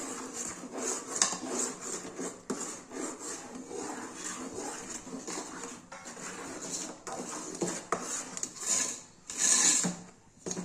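Flour being stirred into hot sugar syrup in a pan while making Mysore pak, a continuous close scraping and rubbing with sharper clinks of the spoon against the pan, no one talking.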